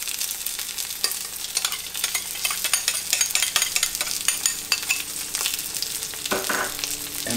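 Onions and celery frying in a pan for salmon steaks with white wine and capers, a loud crackling sizzle with rapid spattering pops and frequent scraping stirs throughout.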